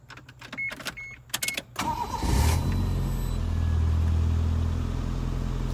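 A 1992 Toyota Starlet GT Turbo starts up after a few clicks and handling noises, then settles into a steady, close engine idle that holds to the end.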